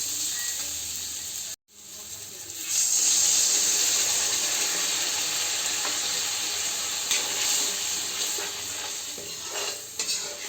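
Water hits frying tomato masala for katla fish curry: a short click and a moment of silence, then a sudden surge of loud hissing sizzle that carries on steadily with faint stirring scrapes.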